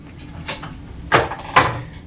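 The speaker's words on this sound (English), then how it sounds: "So if we open those 2 doors, we have some additional drawers over here." Cabinet doors in a Royal Caribbean Radiance of the Seas grand suite are opened, giving a soft swish, then two close wooden knocks and clunks in quick succession, moderately loud.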